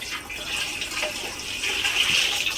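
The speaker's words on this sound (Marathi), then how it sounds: "हा एक एक लिटरचा तांब्या आहे ते पाणी टाकायचं आहे आपल्याला" Water poured from a one-litre jug into a cooking pot while making chakli dough, a steady rushing splash that holds for a couple of seconds and swells slightly toward the end, close by with no talking.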